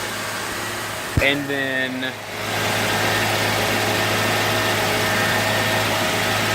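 A car engine idles during a fuel pressure test, a steady mid-pitched hum that holds throughout. Someone speaks briefly near the start, and a short tonal beep sounds over the engine.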